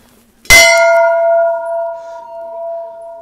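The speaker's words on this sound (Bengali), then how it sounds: "আর ঘন্টাটা বেশ বড়" A large bell at Shankaracharya temple struck once, a sharp loud clang that rings on as a long, clear, slowly fading hum, with no voices.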